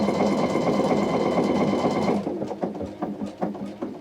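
A Pfaff Icon or Expression sewing machine runs fast and steady for about two seconds, then slows into a close, uneven run of separate stitching thumps.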